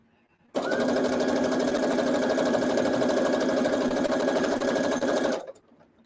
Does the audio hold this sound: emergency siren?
no